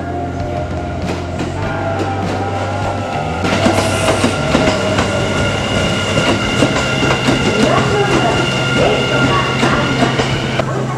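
A four-car Kintetsu train made of two coupled two-car sets departs toward Nara on the Kashihara Line, its rumble and rhythmic wheel clatter swelling loudly after a few seconds and running steadily close by, with no talk.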